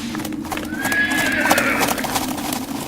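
Horse neighing with a rising whinny over a steady galloping clip-clop, the mount of a shouting cavalryman charging hard, loud and close throughout.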